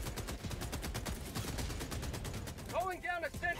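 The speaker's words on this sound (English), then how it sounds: "I'm gonna mortar again." Mortar strikes fired in Helldivers 2 make repeated sharp bursts of gunfire-like impacts in a steady rhythm, with brief whistling sweeps near the end and game noise underneath.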